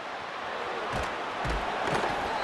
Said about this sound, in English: This Boise State crowd bringing the noise. It's deafening here on 3rd down.